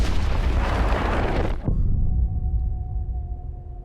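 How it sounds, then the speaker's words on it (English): A V-1 flying bomb explodes in Battlefield 5, a loud, heavy boom with a deep rumbling roar that cuts off abruptly and leaves a low rumble behind. "That sounds like one of them flying bombs from the beta."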